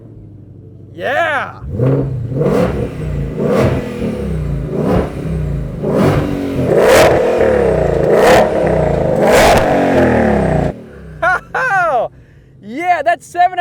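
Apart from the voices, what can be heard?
modern American muscle car starting and revving, 760 horsepower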